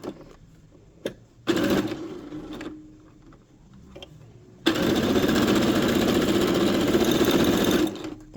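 A sewing machine stitching a small pet dress runs in short bursts, then one long steady whir of rapid needle strokes, close and loud, with brief quiet handling noises between runs.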